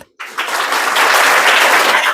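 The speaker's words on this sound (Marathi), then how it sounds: "हार्दिक अभिनंदन टाळ्या वाजवायचे" Applause for a student being honoured at an academy ceremony after her Navodaya exam selection breaks out after a brief silence, a dense, steady clatter of many hands clapping nearby that holds strong to the end.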